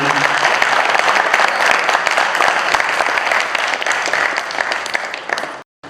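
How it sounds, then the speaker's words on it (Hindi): An audience at a stage play applauds the lighting designer, a loud, sustained round of clapping that runs steadily for several seconds before cutting off abruptly. "सबसे पहले इस नाटक के लिए लाइट डिजाइनर नरेश जी के लिए तालियां बजाइए"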